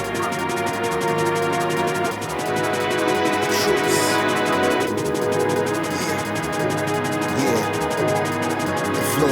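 A drum and bass track plays at full loudness, with fast, dense drum hits driving a constant rhythm under layered synths and a brief brighter swell near the middle.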